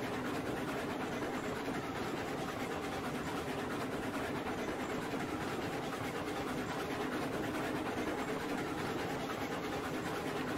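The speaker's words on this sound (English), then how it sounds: "We know we can haul pretty long trains down here." A long freight train hauling oil cars runs in the video game Railroads Online, producing a continuous rumbling roll of wheels on track with faint rhythmic clatter, steady and unbroken, with no talk.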